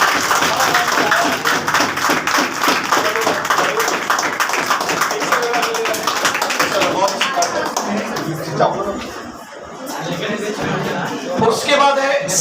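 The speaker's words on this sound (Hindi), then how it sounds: "तो दिवाकर कुमार है, आप लोग जोरदार तालियों से इसका स्वागत करिएगा।" Audience clapping to welcome a student at a class 10th–6th student award ceremony, a dense, steady applause filling the whole stretch, fairly loud and close with scattered crowd noise and some talk mixed in.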